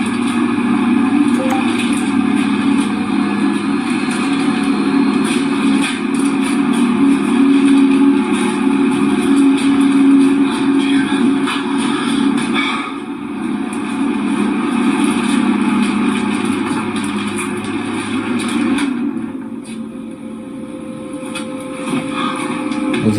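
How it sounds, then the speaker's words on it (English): A motor engine runs steadily and fairly loudly for the whole stretch, a constant low drone with a slight dip partway through, with no talk over it. "Was that a motor?"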